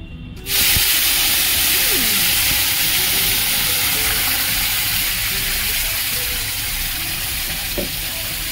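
A paste of tomato, ginger and green chili hits very hot oil and erupts into a loud, steady sizzle that starts abruptly and hisses on with only a slight easing.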